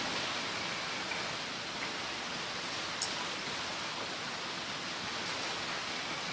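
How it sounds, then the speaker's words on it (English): Steady rain falling outside, a continuous close hiss of dense drops with no talking, holding even throughout apart from one faint tick partway through. "It's weird to me that it's still raining"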